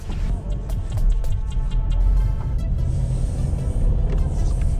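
A car driving along, picked up by a GoPro Hero 7 White camera, with steady low road rumble and engine drone close by and a few light knocks early on, no talk.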